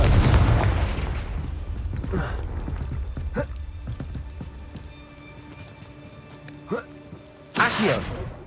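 Confringo fire spell blast in the video game Hogwarts Legacy, a loud opening burst that crackles and fades, followed by scattered booms and a final sharp blast, with speech heard in places.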